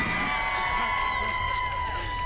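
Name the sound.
crowd laughter and applause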